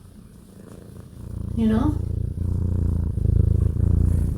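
A cat purrs steadily and very close to the microphone, a low continuous rumble that swells and holds, while a person speaks briefly over it.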